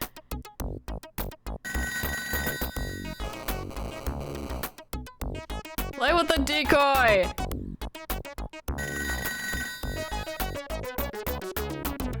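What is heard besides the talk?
telephone ringing in the video game Toejam & Earl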